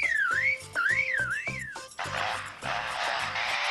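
A lyrebird imitates a car alarm. It gives close, repeated rising-and-falling electronic-style whistles for about two seconds, followed by a harsh, noisy burst of sound.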